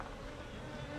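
Close, steady buzzing hum of a honeybee colony, a dense insect drone with a slightly shrill edge, continuous and without talk.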